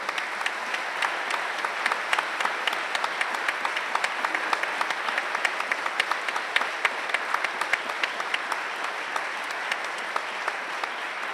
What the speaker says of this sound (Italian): la vuole abbracciare idealmente con questo applauso